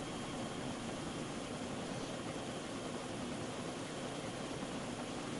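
Steady propeller aircraft engine drone in the DayZ game, a continuous broadband roar holding at an even level throughout with no talk over it.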